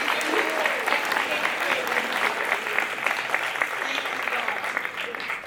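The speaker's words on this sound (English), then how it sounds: "Give them a round of applause" A school graduation audience applauds the standing teachers and staff, sustained dense clapping at moderate volume with crowd voices and cheering mixed in underneath.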